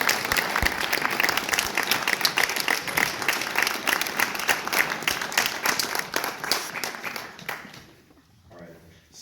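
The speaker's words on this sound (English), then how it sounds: "get a round of applause for my parents" An audience at an Eagle Scout Court of Honor claps for the scout's parents, with dense steady applause that thins and dies away near the end, leaving a few voices talking.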